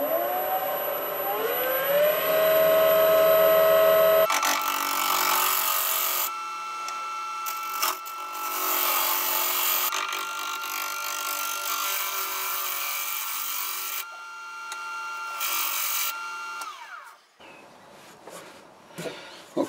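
A wood lathe turning a tenon on a branch for an ornamental birdhouse, a loud whining motor spin-up followed by sustained tool-on-wood cutting and scraping that fades out near the end.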